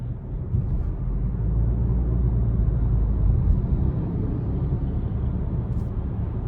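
2021 Subaru Ascent Touring with 2.4 turbo engine accelerating, a low muffled cabin rumble that swells steadily, broad and even with road noise, no voices.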